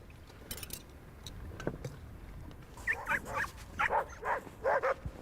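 Dogs at an expedition camp on Klyuchevskaya volcano, with a few faint yelps at first, then a close run of quick whimpering yips and barks.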